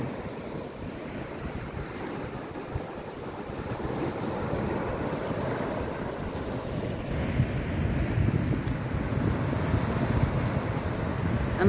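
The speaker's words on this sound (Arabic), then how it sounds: "الموجة عالي جدا" Loud high waves roll and crash continuously on a beach at Marsa Matruh, with heavy wind buffeting the microphone throughout.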